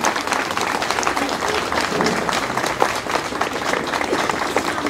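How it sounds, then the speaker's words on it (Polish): An outdoor audience applauds at a bench unveiling ceremony on the Planty park in Kraków, steady dense clapping from a moderate-sized crowd, even in loudness throughout. "Teraz mogą być brawa."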